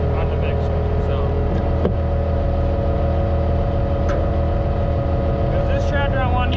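Allis Chalmers tractor engine idling while hitched to a mixer, a steady loud low drone with an even mechanical throb, close by, as someone talks over it.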